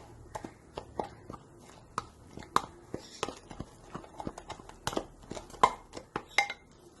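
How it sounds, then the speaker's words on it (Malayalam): A spoon stirs spice powders into minced meat in a pan for Afghani kheema, making faint, irregular scraping taps and clinks against the pan, close by and quiet. "ഇത് നന്നായി ഇളക്കിയെടുക്കാം."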